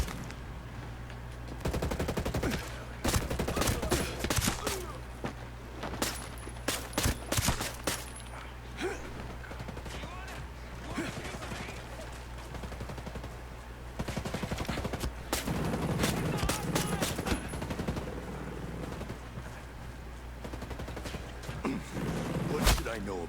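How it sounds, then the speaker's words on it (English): Gunfire crackles through a Ghost Recon Breakpoint firefight, with bursts of automatic shots and single cracks repeating in clusters over steady game ambience, while a player talks intermittently throughout. "they're shooting at me from there"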